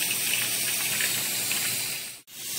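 Tap water runs in a steady, close hiss while fruit is washed under it, cutting off abruptly near the end before resuming.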